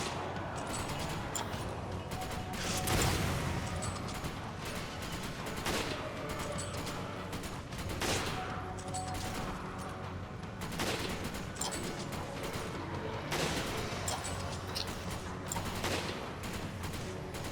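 Heavy gunfire from a Resident Evil 5 battle, with dense overlapping shots and bursts, the loudest clustered at regular intervals, continuing for the whole stretch with no talking.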